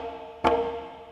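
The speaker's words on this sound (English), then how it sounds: "the slap" A single sharp conga slap, one bright cracking hit standing out clearly over a faint sustained background tone, recorded close with no talking.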